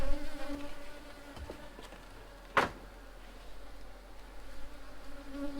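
Honeybees hum in a steady, close drone while a hive is opened for inspection, the buzzing holding level throughout with one brief louder burst near the middle.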